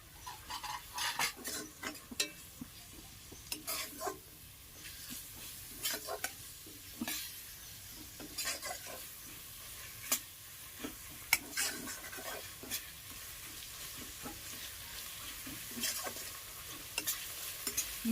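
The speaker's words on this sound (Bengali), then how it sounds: "পেঁয়াজ বাটাটা ভালো করে মিশিয়ে নিয়ে কিছুক্ষণ এরমভাবে ভেজে নেওয়ার পর আমি এতে দিয়ে দেবো আদা রসুন বাটা" Onion paste with ginger-garlic paste frying in a pan for chicken masala, a low sizzle under repeated scraping and stirring strokes of a metal spatula against the pan.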